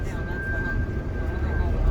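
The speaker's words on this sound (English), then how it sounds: "The sound you hear, that's the retarders." A steady high-pitched squeal holds throughout over a low rumbling background of rail yard noise, as car retarders grip wheels in Bailey Yard, North Platte, Nebraska.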